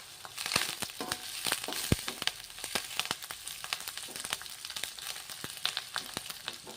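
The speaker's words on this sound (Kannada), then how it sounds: "ಕ್ಯಾಪ್ಸಿಕಮ್ಮು ಫುಲ್ ಎಣ್ಣೆ ಒಳಗೆ ಫ್ರೈ ಆಗಬೇಕು" Lengthwise-sliced capsicum fries in plenty of oil for capsicum rice, giving a close, crackling sizzle with scattered sharp pops and spits and no voices.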